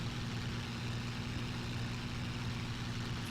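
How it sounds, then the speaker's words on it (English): Damaged aircraft engine in the IL-2 flight sim game, a steady, loud low droning hum with a rough, uneven texture that runs continuously throughout. "Engine is already doing really weird noises."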